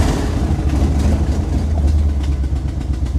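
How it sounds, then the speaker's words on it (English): A Chevrolet C-10 square body pickup engine idles close and loud with a steady low rumble, running alone without talk over it. "Looks like she's gonna idle now"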